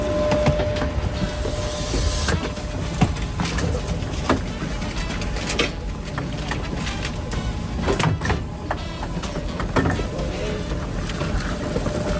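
A KTX train rumbles steadily along the rails, with a continuous noisy roar, occasional clanks and rattles, heard from on board in first class.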